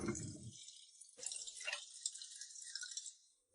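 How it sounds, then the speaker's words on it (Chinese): Water runs from a household tap left on, a faint, steady close-up trickle and patter that follows a short low rumble. "水龙头忘关了怎么办？"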